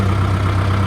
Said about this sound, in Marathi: काय आपल्याला लावायचं ट्रॅक्टर आता सावलीला. गेअर कमीच करून घेतो पहिली.